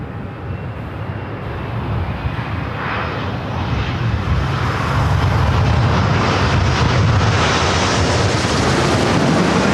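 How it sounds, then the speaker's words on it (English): A jet airliner arriving at Los Angeles airport as flight 38 from Tokyo Haneda, its loud, continuous engine roar building and swelling as it passes close by. "This is the flight coming in from Tokyo Haneda"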